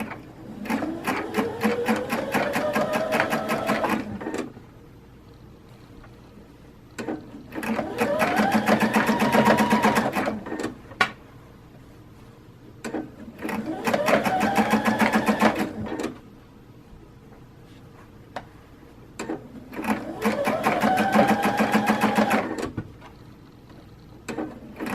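A home sewing machine stitches a men's shirt being altered smaller, running in four whirring bursts of about four seconds each that ramp up in speed, separated by quiet pauses and small handling clicks.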